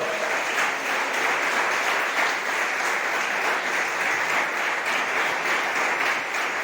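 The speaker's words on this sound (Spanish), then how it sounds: "Ríndale un fuerte aplauso al Señor." A church congregation breaks into loud, continuous applause, a dense even wash of clapping that holds steady without pause from start to finish.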